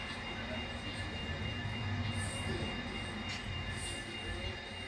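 Two diesel locomotives are being uncoupled at a freight terminal during switching, giving a steady, close rumble of rail equipment with faint metallic squeals and clanks over it.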